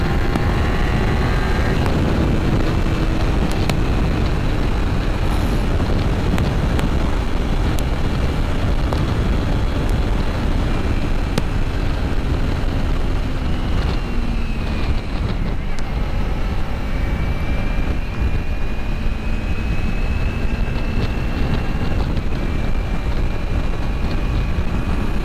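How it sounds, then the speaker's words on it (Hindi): A Kawasaki Ninja 300 parallel twin motorcycle is ridden on city roads in Kolkata, its engine droning steadily under heavy, constant wind buffeting and road rumble for the whole stretch, with shifting engine tones as speed changes. "I hope you guys are getting the parallel twin sound"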